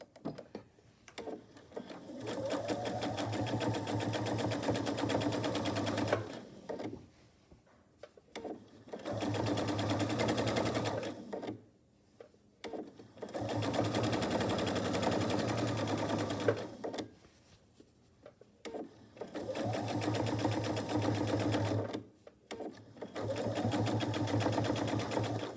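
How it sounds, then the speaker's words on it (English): A sewing machine stitches down quilt binding in four long, steady runs of rapid whirring, each separated by short quiet pauses, close and clear with no talking. "so now I'm going to continue stitching it down from where I stopped and where I began"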